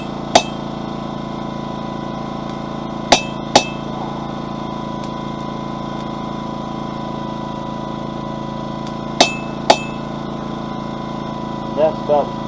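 A hammer strikes a flat chisel to score a line in forged metal, giving a few sharp, ringing metallic taps at uneven intervals, some in quick pairs, over a steady background engine-like hum from the forge.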